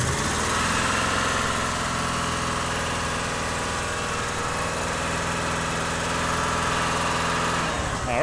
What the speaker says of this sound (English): All right, just a quick rev there.